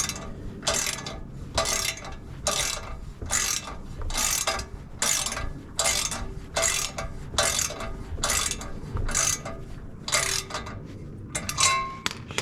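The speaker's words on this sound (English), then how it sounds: "Tighten the bolt. Obviously you're gonna need a 13 to tighten it." A 13 mm ratchet wrench tightening a bolt on a big-tube drag header on a 1990 Honda Civic EF hatch: a long run of rhythmic, close ratcheting clicks, stroke after stroke, with occasional light metallic clinks.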